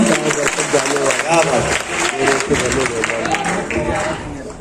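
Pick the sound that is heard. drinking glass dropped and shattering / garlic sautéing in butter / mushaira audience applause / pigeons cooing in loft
mushaira audience applause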